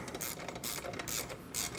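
Ratcheting clicks from a wrench tightening a nut on a motorcycle engine guard of a Street Scrambler 900, four short rhythmic bursts close and faint in a quiet space.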